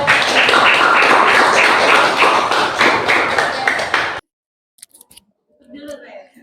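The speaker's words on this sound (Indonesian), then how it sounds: "Kita beri tepuk tangan ya" A classroom group claps briskly and loudly for about four seconds, then stops abruptly, followed by a few faint taps and rustles.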